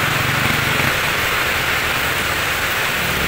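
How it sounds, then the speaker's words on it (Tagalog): Heavy rain with strong wind, a steady, loud broadband roar that fills the whole clip without pause, with a faint low rumble underneath. "Lakas ng ulan pati hangin."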